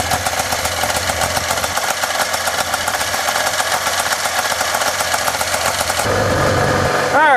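Arctic Cat Puma snowmobile engine idling after a cold start, a steady, loud, rattling two-stroke putter held close throughout, with a brief rev change near the end.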